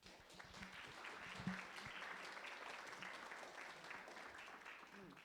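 Audience applause at a talk on the Mediterranean in Virgil's Aeneid, a moderate, steady patter of clapping from a room of listeners, fairly soft and sustained, with a faint voice briefly under it.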